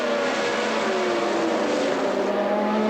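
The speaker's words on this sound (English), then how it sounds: "chasing them in 6th and 7th places, Jones and Reutemann in the 2 Williams cars." Formula 1 cars from the 1981 season, including the two Williams cars, roar past in a sustained, loud high-pitched engine wail with shifting tones as several cars pass close together.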